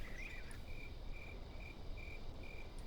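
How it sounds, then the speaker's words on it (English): Swamp ambience in the video game Anarchy Online: regular, evenly spaced high-pitched chirps from amphibians, like a trilling cricket, repeat over a constant noisy background hum. "The swamp and frog sounds."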